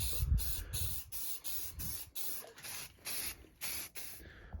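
Rapid bursts of spray primer being applied to back bumpers hanging in a wooden shed, about ten short hissing sprays in a steady on-off rhythm, close and fairly clear.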